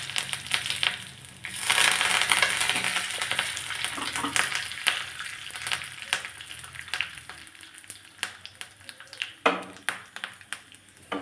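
Mustard seeds, cumin and curry leaves sizzle in hot oil over a low gas flame, a steady frying hiss with scattered crackles and pops that grow sharper toward the end, close and fairly loud with no talk.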